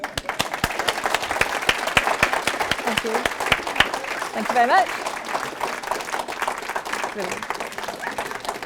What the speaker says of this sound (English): I would like you all to give a round of applause to the real star of the show,